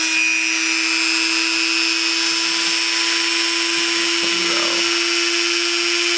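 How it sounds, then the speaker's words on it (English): A Dremel rotary tool at a low speed setting whines steadily and loudly without pause while buffing rust off a revolver crane, with a faint scraping change partway through. "I have the Dremel with the different speeds"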